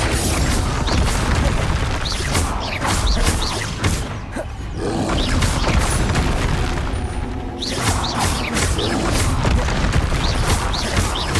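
In Hogwarts Legacy, Confringo spell explosions boom loudly again and again amid whooshes and dense combat noise. The fight runs steadily for the whole stretch, with only a brief dip in the middle.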